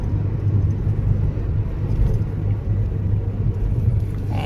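Steady low rumble of road traffic and tyre noise on the Delhi-Dehradun Expressway, continuous and fairly loud throughout, with no voices.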